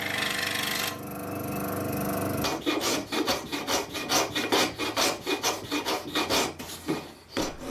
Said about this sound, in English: Quick clean up with the block plane on the straight edges, and then a bit of sanding on the curved edges